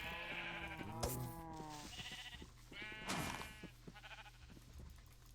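Sheep bleat at a sheep farm in the Minecraft video game, with two distinct drawn-out bleats about two seconds apart, each followed by soft shuffling clicks and rustles, fairly close and quiet with no talk.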